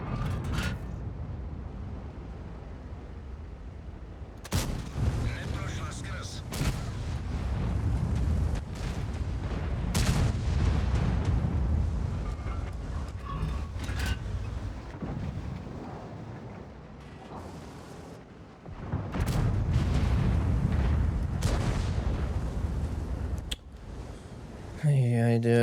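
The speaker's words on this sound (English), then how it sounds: "Artillery wants to shoot at me with a bunch of nonsense." Heavy booming artillery impacts and tank cannon fire in World of Tanks, a tank battle game, with several loud blasts and rumbling over a dense backdrop while someone talks throughout.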